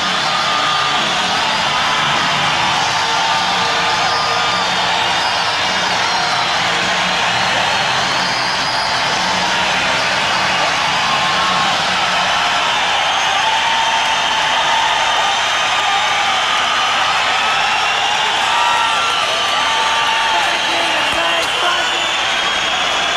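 A hockey crowd roars after Canada's goal against Russia at the 1991 World Junior Hockey Championship, a dense, sustained wash of cheering that fills the arena at high level from start to finish with no clear breaks.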